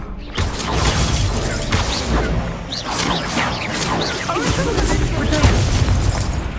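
In Hogwarts Legacy, a duel of cast spells, including the Incendio fire spell, fills the scene with continuous booms, bursts and whooshing magic impacts over dense battle noise, loud and busy, with voices mixed in.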